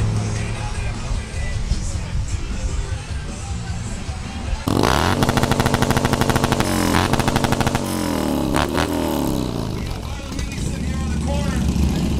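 A dirt bike at a motorcycle stunt show, its engine revving hard and loud over crowd noise and talk, surging in rapid throttle bursts partway through.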